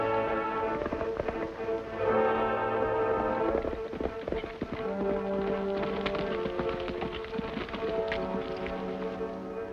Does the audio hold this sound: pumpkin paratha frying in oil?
no